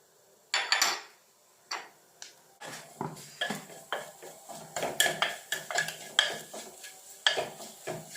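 Chili, coriander and turmeric powders roasting in a pan for a sardine curry, heard as a series of clinking, scraping spatula strokes against metal, irregular and close, with quiet gaps between and no voices.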